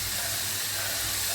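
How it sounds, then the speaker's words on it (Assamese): Cabbage and tomato fry in a pan with a continuous loud, hissing sizzle that stays even from start to finish, with no voices. "বন্ধাকবি আৰু বিলাহীখিনি মই আৰু 1 মিনিটমান এনেদৰে ভাজি আৰু অকণমান বিলাহীটোৰ সৈতে চফ্ট কৰি ল'ম।"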